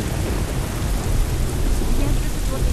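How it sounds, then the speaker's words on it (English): Steady rain pours in a moody, ruined area of The Last of Us video game, a dense, constant hiss with low rumbling beneath, and speech faint or absent. "it's kinda cool that this part is filled with rain"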